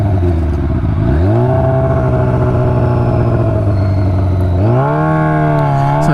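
A Honda CRF dirt bike engine drones loud and close, holding a steady note, then rising in pitch twice as the bike accelerates past.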